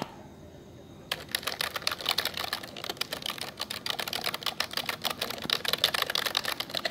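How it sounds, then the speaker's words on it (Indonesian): Rapid, uneven keyboard clicking starts after a brief quiet moment and continues steadily, close and crisp. "kita akan mengetik apa saja ya"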